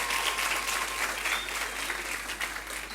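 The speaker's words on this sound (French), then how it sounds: "Est-ce qu'on peut applaudir pour les enseignants, s'il vous plaît?" Audience at a French high-school awards ceremony, Trophée du Lycéen, applauding the teachers: a broad, continuous patter of many hands clapping at steady volume, somewhat distant and roomy, with no speech over it.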